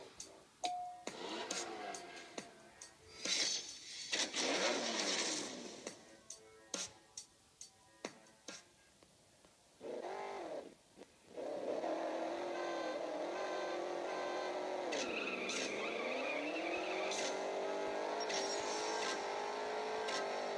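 Engines rev and accelerate through a drag race in the mobile racing game CSR Racing on an iPad 2, with ticking shift cues and a long sustained roar that rises in pitch toward the end.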